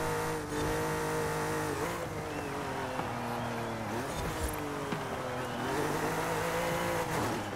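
Jaguar XJ13 race car lapping a circuit in Forza Horizon 5, its engine revving hard and rising and falling through gear changes, with brief tire squeal in the corners, loud and continuous throughout.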